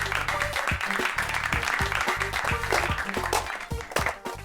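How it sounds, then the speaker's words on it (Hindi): A group claps rapidly and loudly for several seconds in a television drama scene, and a low music bed runs underneath the clapping throughout. "ठोको ताली।"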